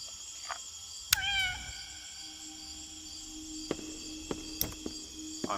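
A cat meows once while being petted in the video game Indigo Park: a short, falling cry rises over a steady electronic hum, followed by scattered soft clicks and taps.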